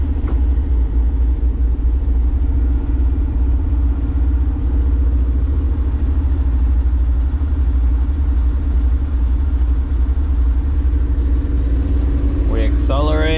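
A Kenworth W900 show truck with an 18-speed manual pulling away in first gear, a loud steady low diesel drone filling the cab, with a voice talking over it.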